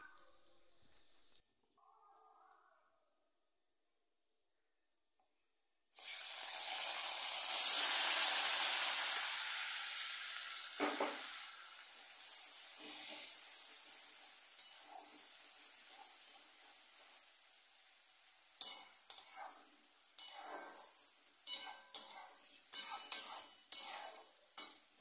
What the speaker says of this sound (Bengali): এই ফোড়নটাকে একটু নাড়াচাড়া করে নিয়ে ওর মধ্যে দিয়ে দেবো পেঁয়াজের পেস্ট।